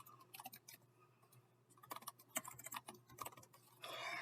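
A computer keyboard is typed on at close range, with quick, soft clusters of keystrokes and brief pauses between them.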